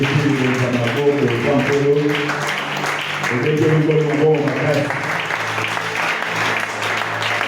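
Applause and acclamation for the Lord fill a church service, broad steady clapping running the full length over sustained tonal voices or music.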